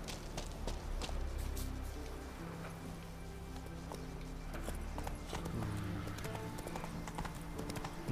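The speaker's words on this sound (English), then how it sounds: "We could just take a horse and ride here." Horse hooves clip-clop at a steady galloping run in The Witcher 3, the rider's mount drumming continuously with a brief whinny amid ambient game sounds.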